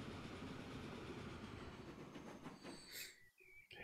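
Trains rolling along rails in the railway-building game Transport Fever 2, a steady loud rumble that thins out near the end, with a faint metallic ringing in the last second.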